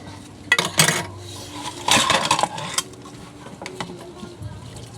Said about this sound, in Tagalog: Hugas tayo ng pinggan, guys.